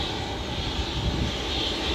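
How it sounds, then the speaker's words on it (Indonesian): An Airbus airliner sits at Sultan Hasanuddin International Airport in Makassar, getting ready for takeoff. Its engines give a steady, broad roar that holds constant from start to end, with no talking. "ini ada pesawat lain. Oh ya, ini bukan Fokker, ini Airbus, siap-siap untuk take off."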